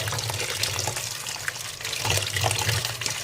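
Tap water runs steadily over chopped pea greens being washed, a fairly quiet stream with small splashes and no talking.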